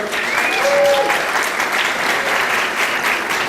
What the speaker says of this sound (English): Let's give him a round of applause, Carlos Castro.